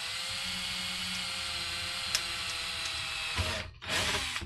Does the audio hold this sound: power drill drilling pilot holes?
yes